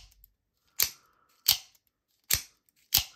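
A Hogue Compound out-the-front knife blade fires out and retracts four times in crisp, sharp snaps with a gun-like crack, close and isolated in silence, roughly evenly spaced.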